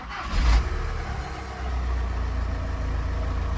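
A VW Caddy van's engine idles steadily and close by after a battery replacement, a low continuous rumble with a brief louder blip near the start.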